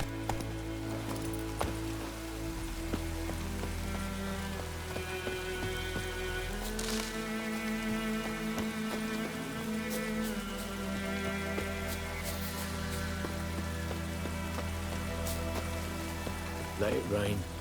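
Steady rain in The Witcher 3: Wild Hunt makes a constant soft hiss that runs under game music and ambient tones throughout, with a brief voice and occasional faint hoof clops mixed in.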